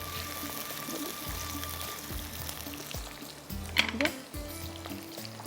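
Onions sizzle gently in oil in a pan, a steady crackling frying sound with clinks of utensils. Someone talks over it.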